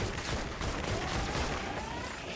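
Dragon's Roar weapon in Fortnite firing single shots, a run of evenly spaced, sharp reports repeating about every third of a second over a busy, noisy game background.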